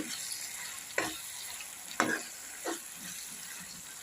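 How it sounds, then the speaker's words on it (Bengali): Chilli chicken stirred in a pan over a low flame, a soft continuous sizzle with three distinct spoon scrapes spaced about a second apart, close and quiet, no voices. "সিম আঁচটাকে শিম করে দিয়ে এটাকে নাড়তে হবে"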